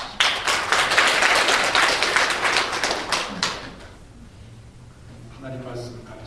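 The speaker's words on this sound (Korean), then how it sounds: "다시 한번 우리 찬양교에서 격려의 박수를 한번 주십시오" Church congregation gives a warm burst of encouraging applause for about three seconds, loud and dense, then fades out, leaving a quiet room and a faint voice at the end.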